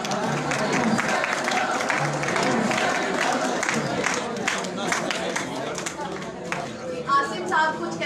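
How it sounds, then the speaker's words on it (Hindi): Audience applause at a celebration event for graphic design students, sustained clapping mixed with crowd chatter and voices throughout, steady and fairly loud. "तो प्लीज तालियां बजती रहें."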